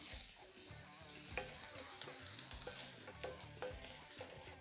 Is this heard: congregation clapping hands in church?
no